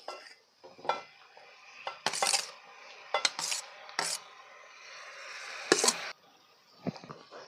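Chopped tomatoes tipped into a pan of cooked potato curry, giving a string of close, sharp metallic scrapes and clatters of a spoon against the pan, with scattered short knocks and quiet gaps between them.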